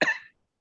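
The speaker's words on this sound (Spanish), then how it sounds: "la tos me agarró" A single short, sharp cough from a woman at a medical talk on emergency poisonings, close and clear, ending abruptly into silence.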